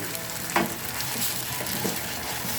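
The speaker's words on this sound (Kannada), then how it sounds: "ಟೊಮೊಟೊ ಹಸಿ ವಾಸನೆ ಹೋಗೋ ತನಕ ಕೂಡ ಫ್ರೈ ಮಾಡ್ಕೊಬೇಕು ನಾವು" Pureed tomato fries with onions in a pan, giving a steady close sizzle with a few scraping stirs and small bubbling pops throughout.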